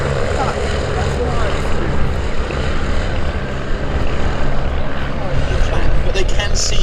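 At an air show, a propeller aircraft roars past with a loud, steady engine drone that swells slightly toward the end, while a voice speaks over it through a public address system.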